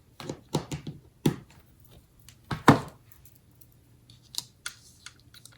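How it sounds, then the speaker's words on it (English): A die cut machine cranks through paper with several sharp mechanical clicks and clunks in quick bursts, loudest around the middle, close by and with no talk. "we're just gonna get the die cut machine out and cut out"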